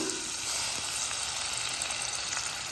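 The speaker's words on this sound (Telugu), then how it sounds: "ఇప్పుడు ఒకసారి గంటతో కలబెట్టుకొని పచ్చిమిర్చి ఉల్లిగడ్డ ఆయిల్లో మగ్గాలండి" Steady, close sizzling of onions and green chillies frying in oil, a continuous bright crackle with no talking.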